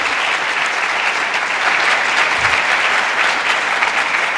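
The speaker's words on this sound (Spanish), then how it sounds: "Denles ofrenda de palmas a Cristo, alábelo por favor." Church congregation clapping in praise, a loud, dense and continuous round of applause close by, steady from start to finish with a brief low thump midway.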